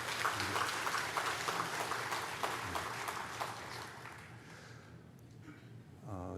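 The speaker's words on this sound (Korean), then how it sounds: "감사하는 마음을 우리 박수로 한번 표현하고 싶습니다" A church congregation claps in thanks for the choir during a revival service, a full burst of applause that gradually thins and fades toward the end.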